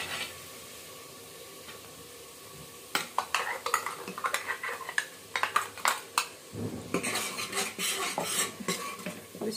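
Onion and tomato paste being fried with spices in a kitchen pan: quiet at first, then a stretch of brisk scraping and stirring clatter against the pan with a soft sizzle underneath, close to the mic.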